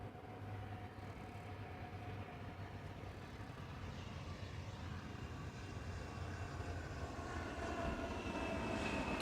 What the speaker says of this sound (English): Listening closely, you hear the reversers.